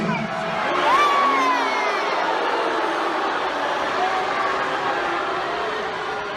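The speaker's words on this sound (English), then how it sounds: "Here's some actual live footage of Cole Beasley being booed in the stadium." A large stadium crowd boos Cole Beasley, a loud, sustained roar of many voices with scattered whistles and shouts that rises early and holds steady throughout.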